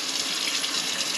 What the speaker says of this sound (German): Wie bei normalen antihaft beschichteten Bratpfannen auch, wasche ich das Ganze nur mit Wasser aus.